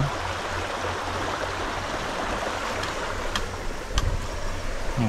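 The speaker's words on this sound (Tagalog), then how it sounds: "Lagas-las ng tubig. Ang maririnig natin dyan." A stream rushes steadily beside a rainy campsite, a continuous close, fairly loud wash of flowing water with a few sharper splashes near the end and no talking.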